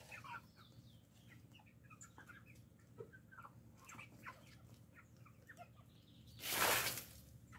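Chickens, including larger hens, cluck and murmur softly nearby in a farmyard coop, scattered faint calls over a low background hum, ending with a short loud rustle or wing flap.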